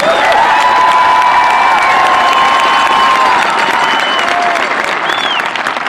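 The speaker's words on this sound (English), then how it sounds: "Let's get a round of applause for the boys soccer team for bringing home the state championship for the first time in school history" A large crowd at a high school graduation gives loud sustained clapping for the state champion boys soccer team, dense and close, with scattered cheers and whistles rising above it.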